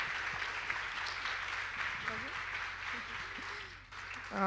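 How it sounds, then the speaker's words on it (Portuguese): Faint audience applause for teachers at a Brazilian forum on youth mental health, soft steady clapping heard from a distance, with brief voices and murmurs mixed in. "pedindo uma salva de palmas para todos os professores que fazem esse trabalho"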